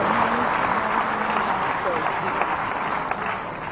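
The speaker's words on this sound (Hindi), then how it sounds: "ताली बजा करके हम इस मंच पर उनका स्वागत करते हैं।" A dense wash of audience applause welcomes a guest onto the stage at a Chhattisgarh tribal assembly event, sounding sustained and crowded, with a voice speaking over it.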